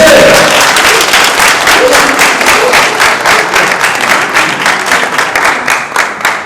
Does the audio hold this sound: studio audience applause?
yes